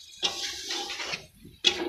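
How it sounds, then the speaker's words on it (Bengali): Water poured into a cooking pot of chicken gizzard and liver with vegetables, two short splashing pours separated by a brief pause, close and fairly quiet. "আমি এখনও অল্প পরিমাণ পানি দিয়ে আর একটু কষিয়ে নিব।"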